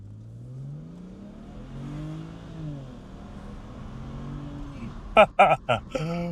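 A BMW car pulls hard under full acceleration, the engine note climbing steadily in pitch through a long run, then a burst of loud clattering knocks and bangs near the end; a voice may be faintly present.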